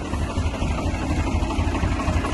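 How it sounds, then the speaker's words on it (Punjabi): A tractor engine rumbles steadily nearby as it passes on a village farm in Punjab, a low, throbbing drone that stays loud throughout without fading. "ਹੁਣ ਟਰੈਕਟਰ ਆਪਣਾ ਲੰਘ ਗਿਆ"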